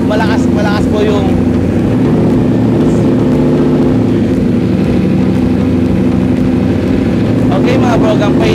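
A Ducati Streetfighter V4S motorcycle engine runs steadily and loudly up close, with a dense continuous rumble throughout and talking over it at the start and end.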